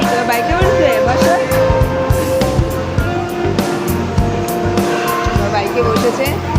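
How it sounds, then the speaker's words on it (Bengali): A kids' arcade motorbike racing game plays loud engine roars and tire squeals over busy gaming-zone noise, with people talking throughout. "বাইকে বসেছে, বাইক চালাচ্ছে। বাবা, বিশাল বাইক চালাচ্ছে।"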